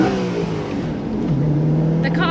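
A BMW E92 M3 fitted with a carbon Venturi intake accelerates, its engine note droning steadily and rising in pitch toward the end, loud and close throughout.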